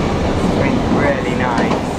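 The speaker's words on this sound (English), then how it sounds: "It's under an old Berlin U-Bahn train on U7." An old Berlin U-Bahn train on line U7 rumbles along underground, a dense steady roar of wheels and motor filling the car without pause.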